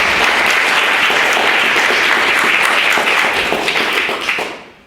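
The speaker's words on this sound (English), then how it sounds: "Give her a big round of applause" Loud, sustained applause from an audience at a university debating society event, dense steady clapping filling the room for about four and a half seconds before tapering off at the end.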